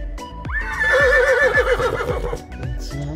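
A toy horse gives a loud, drawn-out whinny with a wavering, high neigh lasting a couple of seconds, while small toy animals are set down on sand with soft thuds around it.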